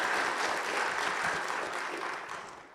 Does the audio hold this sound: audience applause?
yes